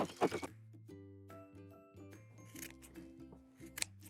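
Scissors clip the corners of sewn fabric, a few soft snips and rustles at close range under a quiet background tone.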